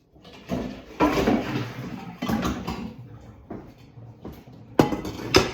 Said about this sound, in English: we're gonna go ahead and put our pot in